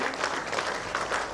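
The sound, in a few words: audience applause at an anniversary event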